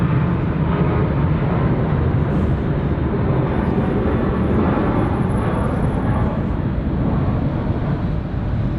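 A Qantas jet departs Sydney Airport on an early right-hand turn, a loud, steady broadband engine roar sustained throughout with no speech.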